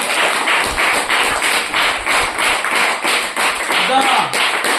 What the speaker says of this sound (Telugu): ఇప్పుడు కొట్టండి చప్పట్లు గట్టిగా